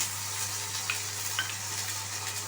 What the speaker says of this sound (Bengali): সাদা তেলে সামান্য পেঁয়াজ বাটা দিয়ে দিলাম